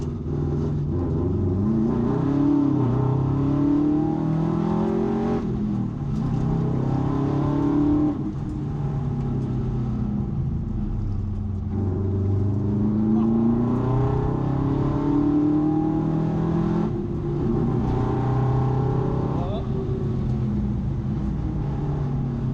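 A Subaru WRX rally car drives hard on a wet road during a rallysprint, its engine droning and rising and falling through gear changes, heard steadily from inside the car with tyre and road noise underneath.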